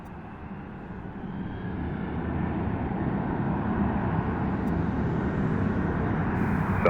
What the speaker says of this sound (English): Next flight that's going to be landing is going to be coming in from Salt Lake City, SCL, Delta Airlines, DL8957, Boeing 737.